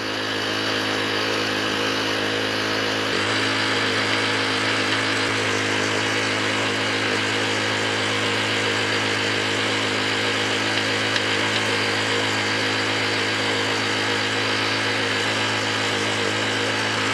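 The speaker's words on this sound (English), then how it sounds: "So with the Scarifier, just let it do its thing, just hold it back slightly, and it will obviously churn out all that thatch" A Mantis mini tiller fitted with a scarifier runs steadily on a lawn, its small engine droning loud and close without letup and churning out thatch and moss.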